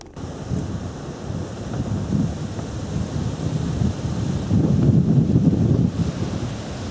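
Wind buffets a microphone outdoors beside an Acura TL, a steady low rumbling roar that swells a little toward the end, with no other clear sounds.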